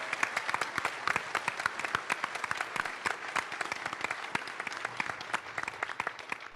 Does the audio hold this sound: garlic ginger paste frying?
no